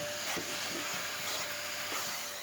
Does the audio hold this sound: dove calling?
no